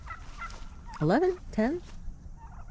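Farm turkeys from a small flock of toms and hens let out two loud, close gobbles in quick succession over quiet background rustling, with a voice briefly heard.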